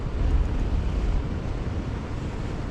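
Steady, heavy wind rumble buffets the microphone continuously while riding a 2021 Harley-Davidson Sport Glide motorcycle (1700+ cc) into the wind, a dense low roar with no talking.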